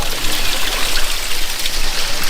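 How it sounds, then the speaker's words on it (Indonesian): Water running nonstop from an open pipe with no tap in a village without electricity, a loud steady hissing splash close by, unbroken throughout. "Oh iya, nggak ada keran. Jadi nggak ada keran ya? Jadi Ngalir terus."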